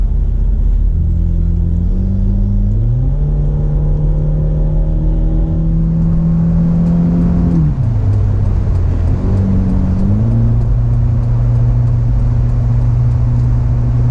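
A 2004 BMW E46 318i drones steadily from inside the cabin, its exhaust note rising and falling with throttle and gear changes as the car accelerates, loud and continuous with no talk.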